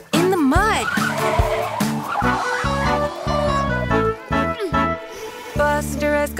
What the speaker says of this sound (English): Screech go the brakes, followed by a thud.